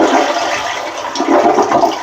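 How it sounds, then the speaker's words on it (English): A toilet in a vacant house being winterized with antifreeze flushes loudly up close, a continuous turbulent rush of water lasting about two seconds with no speech. "Now I'm going to flush this,"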